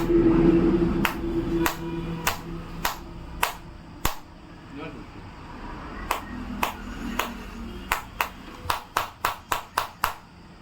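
A hammer striking the back panel glass of an iPhone XS, sharp isolated knocks spaced apart at first and then a faster string of hard taps near the end, close and alone over low background noise.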